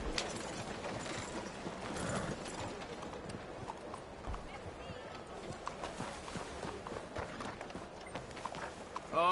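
Horse hooves clip-clop at a steady gallop in Red Dead Redemption 2, with tack and mechanical rattles mixed in. The hoofbeats continue beneath a dense game soundscape.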